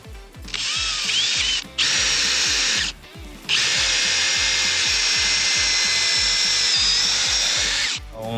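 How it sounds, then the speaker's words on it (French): A power drill bores a hole into a wooden structural timber post, whining loudly in three long bursts separated by short pauses, close to the microphone with a rhythmic grinding chatter underneath. "avec la perceuse, etc. pour faire le trou"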